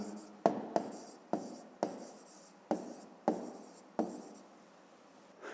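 Hand writing on paper during a physics exercise, a series of about eight sharp pen strokes or taps, each trailing off into soft scratching, close and fairly quiet with no talk.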